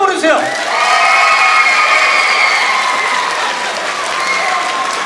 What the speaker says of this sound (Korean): 박수 다시 한번 보내주세요.